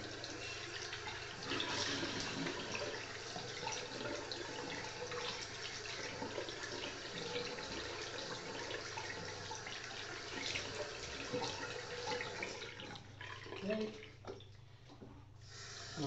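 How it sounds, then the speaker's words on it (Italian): Cold tap water running into a sink as a man rinses his face after a traditional shave, a continuous close splashing stream that fluctuates slightly and eases off toward the end. "Sciacquiamo con acqua fredda, un po' di allume."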